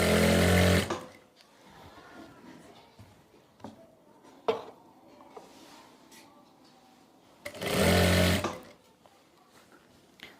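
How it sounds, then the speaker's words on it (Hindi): A sewing machine stitching a salwar runs in two loud, close bursts of rapid whirring, one at the start and another of about a second later on, with quiet handling sounds and small clicks in between. "तो यहाँ से हम सिलाई लगाना स्टार्ट करेंगे"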